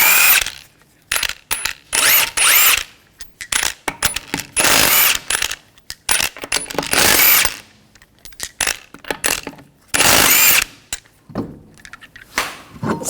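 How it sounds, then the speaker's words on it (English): Lug nuts being removed from a front wheel of a 2003-2008 Subaru Forester with a power tool and 19mm socket, several loud whirring bursts separated by short pauses, with small metallic clinks between. "take the lug nuts off."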